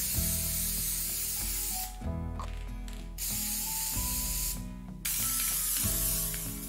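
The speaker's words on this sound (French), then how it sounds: "Remettez encore quelques minutes au congélateur avant de les floquer avec un spray au beurre de cacao." Cocoa butter spray misted onto frozen mini vanille-chocolate Yule logs, coming in hissing bursts over a loud rattling, geared mechanical hum that pauses between sprays.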